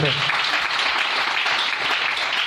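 A church congregation applauding to acclaim the Lord: steady, sustained clapping from many hands throughout, with a voice briefly audible at the start.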